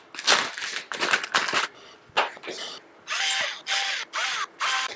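A power drill bores into the rubber top of an enclosed PC case for a mining rig, running in repeated loud bursts with brief pauses between them, close and harsh.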